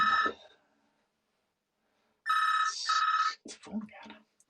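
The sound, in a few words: telephone ringing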